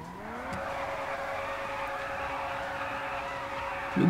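A tri-turbo Ferrari in GTA 5 holds a steady engine drone that rises in pitch at the start, then settles into a sustained even hum; no one talks.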